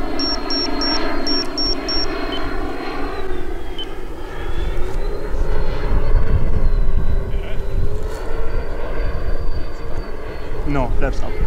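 A giant radio-controlled Airbus A350 XWB model airliner flies on its maiden flight, giving a steady, loud jet-like engine drone that holds throughout with faint tonal whines above it, and a voice speaks at times.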